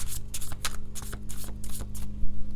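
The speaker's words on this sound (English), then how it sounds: "Let's pull some cards for those of you in separation." Tarot cards being shuffled by hand, close up: a steady run of riffling, flapping bursts and soft slaps that continues for several seconds without speech.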